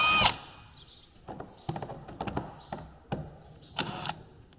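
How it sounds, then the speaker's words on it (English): Old screws being popped out of a lid: a series of sharp, close clicks and taps, scattered irregularly with brief pauses between them. "I'm going to pop these old ones out."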